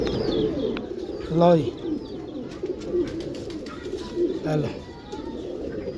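Pigeons cooing while being handled, two clear throaty coos standing out against a background of chatter and movement, with someone speaking briefly over the scene.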